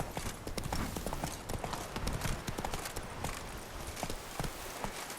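Roach, a horse in The Witcher 3: Blood and Wine on PS4, gallops with a steady, rapid clatter of hooves that runs through the whole clip at moderate loudness, and no one speaks.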